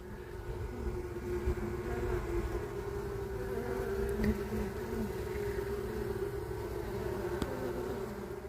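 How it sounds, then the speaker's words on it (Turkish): A steady, low buzzing hum of calm Italian honeybees at an open hive fills the scene continuously, moderately close, with no voices. "Bakın hiç saldırmıyor arılar. İtalyan arısı gayet sakin."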